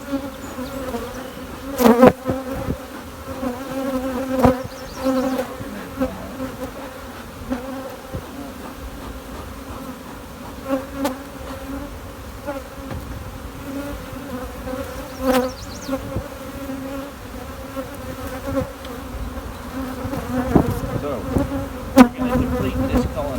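Honeybees swarm around an open, strong hive being inspected during splitting, a dense, continuous, loud buzzing drone close by with occasional louder passes of individual bees near the ear.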